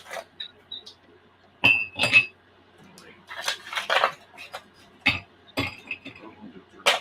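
Ice cubes clink into a rocks glass in a sequence of sharp, bright glassy hits with irregular gaps, close and clear. Soft talk and handling noise sit between the clinks.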